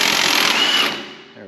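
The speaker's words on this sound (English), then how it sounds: "Let me get this nut out of the way. It's 24 mil." A power tool spins off a 24 mm nut on a seized strut mount of a Dodge Ram truck, a loud continuous buzzing whir that winds down and fades at the end.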